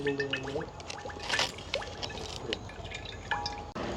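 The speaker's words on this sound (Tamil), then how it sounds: "நாங்கள் பலகாரம் சுடுறதுக்காக தேங்காய் எண்ணெய் விடுவோம்" Coconut oil is poured into a hot pan for frying paniyaram in a village kitchen, heard as a close, trickling stream with drips and light splashes, then a brief gap before the liquid sound resumes.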